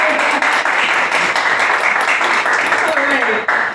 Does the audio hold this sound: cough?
no